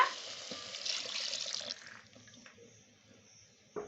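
Water pours steadily into a pot of yellow bean stew for a couple of seconds, then trails off into a quieter trickle before a brief clink at the end.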